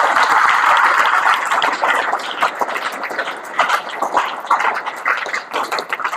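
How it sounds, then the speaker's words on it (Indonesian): Dense applause from an audience at a motivational session in an Islamic boarding school in Bogor, loud and sustained, then thinning into scattered claps toward the end. "Tepuk tangan untuk kita semua hari ini."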